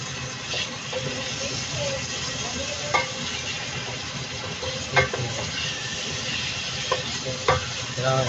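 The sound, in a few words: stirring sopas in a cooking pot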